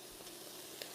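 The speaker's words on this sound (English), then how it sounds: "I want to keep that sizzle going the whole time that I'm adding this meat" Lean rump steak strips hitting a hot wok during a beef stir fry, giving a steady, even sizzle that is quiet and continuous, with a faint crackle near the end.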